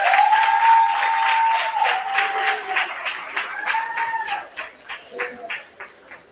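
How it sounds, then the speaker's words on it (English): Audience clapping at an awards gala celebration, a steady patter of many hands mixed with loud sustained vocal cheers and whoops that give way to sparser, uneven claps toward the end. "Once again, a round of applause."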